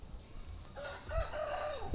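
Egg-laying hens on a small farm cluck and call in short bursts over a low background hum, fairly close, with one rising crow-like note.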